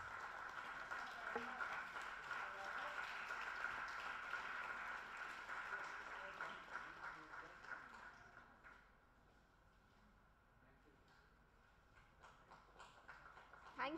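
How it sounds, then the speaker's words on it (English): An audience at a live-streamed felicitation event gives a round of applause, a moderately loud patter of clapping that thins and fades away over the second half. "please give a round, huge round of applause"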